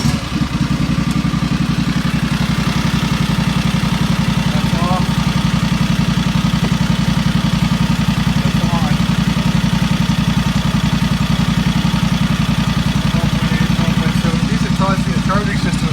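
A riding lawn mower engine fires up and settles into a steady, close idle, a constant low rumble with light mechanical clatter running unchanged throughout.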